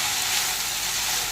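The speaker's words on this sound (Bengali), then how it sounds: "আবার একটু ভালো করে নেড়ে নেব।" Boiled taro stolons frying with onion in a pan, a steady bright sizzle and hiss close up, continuous with no talking.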